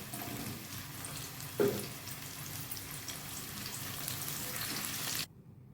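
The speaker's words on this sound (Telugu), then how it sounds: "ఇలాగే ఈ కాకరకాయలన్నీ కూడా వేపుకోవాలి ఫ్రై చేసుకోవాలి" Pieces of bitter gourd fry in hot oil, giving a soft, steady sizzle with one brief clatter partway through, then it cuts off abruptly. Fairly quiet, no talking.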